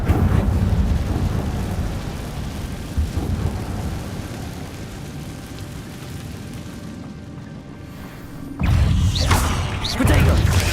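A blazing Incendio fire spell from the Hogwarts Legacy video game: a dense rumbling roar of flames and crackling that runs continuously and loudly, dipping briefly before a fresh burst surges back near the end.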